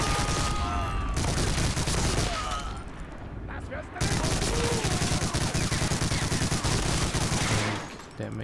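Sustained MG42 machine gun fire rattles during the D-Day mission of Medal of Honor Allied Assault. Loud, rapid bursts of gunfire fill the scene, broken by a short lull, then rolling volleys resume, with a voice talking underneath.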